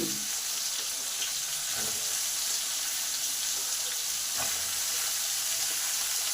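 Beans and flat beans fry in a pan for a cauliflower-stalk chorchori, giving a steady close sizzle with a few stirring scrapes and no voices.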